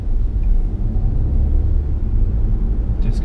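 A Peugeot 2008 with the 1.2 PureTech 110 hp engine and automatic gearbox drives along, heard from inside as a steady, loud low rumble of engine and road noise with no clear breaks at the gear changes.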